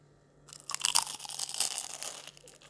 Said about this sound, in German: Das ist so richtig knusprig mit diesem Tempura-Mehl.